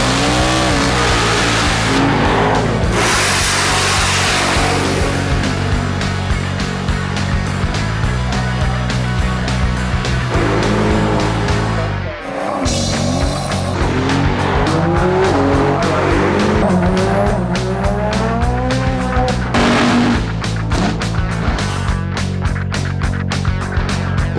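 A car at a drag strip making a timed quarter-mile run, engine loud and continuous throughout, with sharp tire squeal and skidding, a brief dip in the middle, then sustained roaring again.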